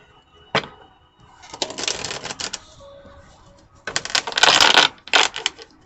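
Tarot cards shuffled up close in separate bursts, crisp riffling clicks and flutters with short pauses between them and no talk.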